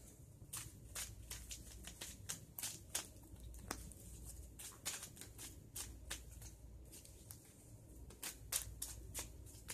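A deck of cards is shuffled close up, with rapid repeated riffling flicks and soft snaps, no voices.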